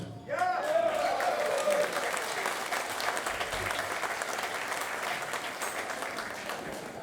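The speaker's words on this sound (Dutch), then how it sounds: "Mag ik ook nog een applaus voor Wouter?" Audience applause at a live event, a steady burst of clapping from a crowd that starts suddenly and carries on evenly, with a voice speaking briefly at the start.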